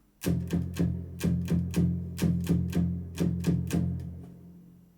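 Tight, chugging palm-muted metal guitar power chords in a steady rhythmic pattern, short choppy strikes repeating in groups, played alone.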